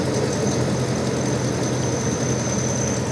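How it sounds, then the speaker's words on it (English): A Hummer H2 SUT engine idling after air-conditioning repair work, a steady low rumble with a constant whine from the spinning belt, close and even with no talk. "Engine sounds great."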